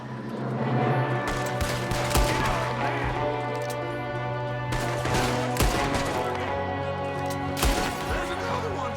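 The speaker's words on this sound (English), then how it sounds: "There's another one shooting from the window" Gunfire in Red Dead Redemption 2 as a shooter fires from a window: loud sharp shots and bursts crack out repeatedly over a steady background hum, with scattered crashes between them.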